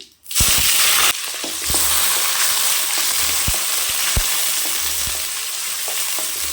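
Crushed shallots hit hot oil for a mushroom gravy, setting off a loud, sudden sizzle that holds as a dense, steady frying hiss, with occasional spoon taps against the pan.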